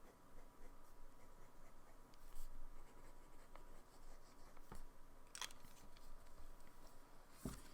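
Sailor LeCoule fountain pen with a wonky nib that starts hard, scratching across paper, giving soft, faint scritching strokes with a few sharper ticks and taps scattered through a quiet stretch.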